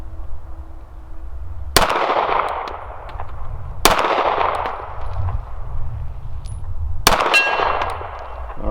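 A Staccato CS pistol fired at steel targets on a range: three sharp shots spaced a couple of seconds apart, each followed by a ringing metallic clang from the hit steel, with outdoor ambience between.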